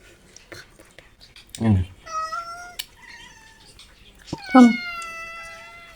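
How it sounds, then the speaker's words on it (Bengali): Two cats meow at close range, one long drawn-out cry followed by another a couple of seconds later, with quiet murmuring voices in between. "এই দুটো বিলাই"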